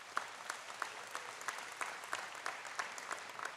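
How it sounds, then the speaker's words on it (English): A commencement ceremony audience claps for the national anthem singer, a fairly faint, even patter of many hands from a distance that carries on throughout without voices. "Can we give her another round of applause?"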